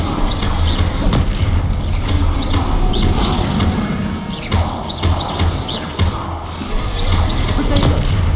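Repeated Bombarda spell blasts in the Hogwarts Legacy video game, a series of dull booming thumps and crashes over a dense, continuous game soundscape, fairly loud and evenly spaced.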